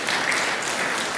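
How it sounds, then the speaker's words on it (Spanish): A Spanish-speaking audience bursts into brief, loud, close applause as a man is called to the front, a short dense patter of clapping. "Denle un aplauso fuerte."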